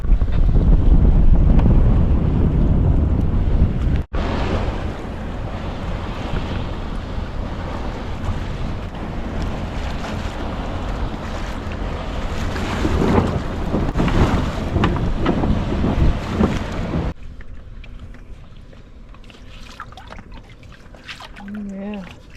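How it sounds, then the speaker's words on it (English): Strong wind buffets the microphone aboard a sailboat moving along a shore in gusty, fluky wind, with water rushing around the hull. The roar continues for most of the clip, then drops to quieter water sounds with a voice speaking. "we're right along the shore here, so we get a little bit of fluky wind,"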